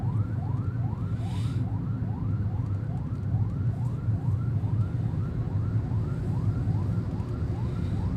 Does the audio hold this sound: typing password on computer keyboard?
no